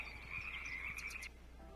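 Frogs croak near a river in a sustained, buzzing trill with a rapid pulsing rhythm, loud and close, ending abruptly as a lower, softer call follows, with no talk.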